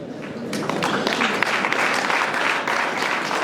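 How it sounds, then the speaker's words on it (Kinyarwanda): Steady, dense applause from a crowd, continuous clapping that holds at full strength throughout. "Aya mashyi nayo kubashimira"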